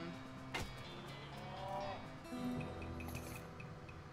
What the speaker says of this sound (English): These cows are not happy.